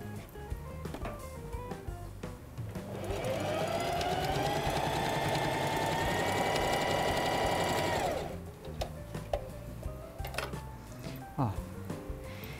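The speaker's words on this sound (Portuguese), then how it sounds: "Vou colocar o forrinho nele, ó. E costurar somente a parte de cima." A sewing machine stitches the top edge of a passport cover lining in a steady, close whirring run of about five seconds, framed by handling noises before and after, with speech around it.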